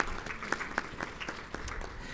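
Scattered, fairly faint clapping from an audience at a strategic-plan presentation in Rwanda, a few distinct claps standing out over a low background for about two seconds.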